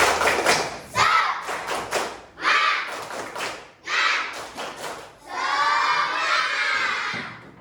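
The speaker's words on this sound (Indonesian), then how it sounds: "kita tepuk semangat dulu ya. Tepuk semangat." Grade 5 schoolchildren in a classroom do the rhythmic tepuk semangat spirit clap, bursts of clapping and thumps in patterned phrases, ending with shouting and cheering.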